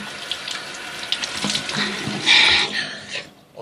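Cold water runs from a tap into a sink, a close, steady splashing hiss that swells midway and then fades out near the end.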